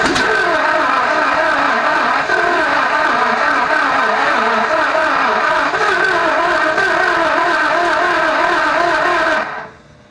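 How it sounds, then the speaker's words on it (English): A Pontiac 301 engine runs loud and close with a steady, even rhythmic drone, then abruptly cuts out near the end. "Yep, ignition. Crank."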